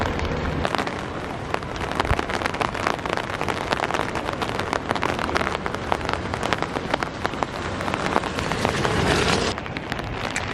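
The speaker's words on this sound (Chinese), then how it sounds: "但是幸好下雨没有那么很大。" Steady rain falls over a garden area near Taipei, a dense, continuous patter on surfaces that holds at an even level throughout with no voices.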